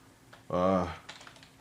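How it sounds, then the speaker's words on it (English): Someone types briefly on a computer keyboard at close range while entering text into printer settings, with a short burst of keystrokes set against a quiet room and a voice nearby. "That's just something I'm just typing in"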